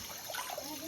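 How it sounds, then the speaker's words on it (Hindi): Water poured from a bucket splashes and trickles over dishes being washed by hand at a mountain home, a short close gurgling pour. "एक हाथ से पानी डालना पड़ता है और एक हाथ से बर्तन धोना पड़ता है"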